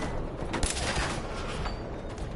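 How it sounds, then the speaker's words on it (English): Rapid gunfire from a 10mm pistol in the video game Fallout 4, a dense burst of quick shots blurring into a loud, continuous crackle over about two seconds, with no voice heard. "you can get loads of shots off with the 10 mil"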